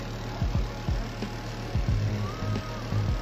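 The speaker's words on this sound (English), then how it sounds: "Sorry if you hear the loud ass fan in the background." A loud fan runs steadily in a room, a constant whir with a high-pitched tone and faint periodic thumps repeating underneath.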